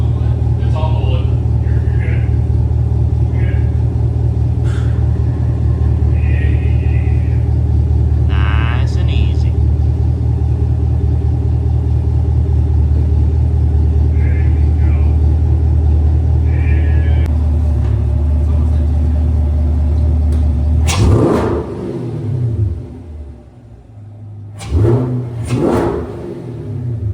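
A 2021 Camaro SS V8 idles with a steady, deep rumble while backed onto wooden ramps, then revs sharply twice near the end, loud and close, with a voice speaking faintly over the idle.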